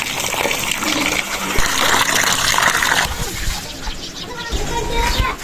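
Goat liver being rinsed under running water in a village kitchen, a continuous loud gush and splash of water with some handling noise throughout.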